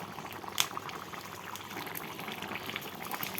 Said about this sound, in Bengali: দেখুন বন্ধুরা, টকবক করে ফুটছে